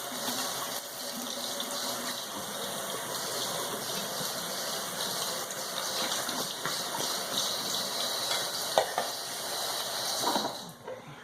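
Cassava roots being washed under running water, a steady close gush from a tap into a sink, continuous throughout with occasional splashy bursts and no talk.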